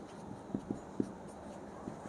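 Marker or chalk writing on a board during a class 10 math lesson, a few faint short taps and strokes in a quiet room.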